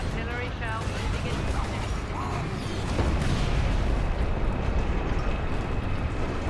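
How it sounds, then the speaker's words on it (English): An artillery shell rumbles in a Warhammer 40K battle against orks, a dense, continuous low roar with mechanical rattling that builds slightly midway, heard under someone talking. "Artillery shell moving"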